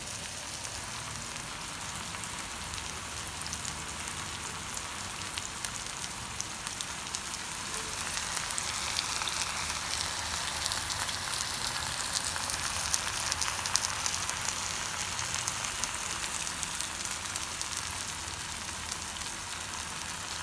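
Fish fries Kerala style wrapped in banana leaf in a pan, giving a long, even, crackling sizzle that stays steady and fairly quiet throughout, with no talking.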